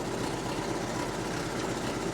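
A Farmall tractor engine, an older auction machine such as a Farmall M or C, rumbles steadily at a low idle, continuous and close with no pauses or speech.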